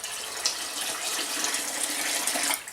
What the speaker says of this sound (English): And then you got to add more water.